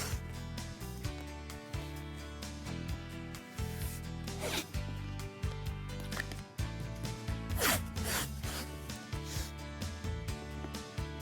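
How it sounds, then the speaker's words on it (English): Painter's tape being peeled off the roll and pressed onto a drill press table, repeated close ripping and rubbing strokes in short bursts with pauses, no voices. "continue to cover up this inside section with some more painter's tape."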